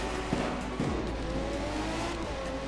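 A video game car engine in a Roblox driving game drones and revs steadily, with a couple of brief surges in pitch, loud and continuous with no talking.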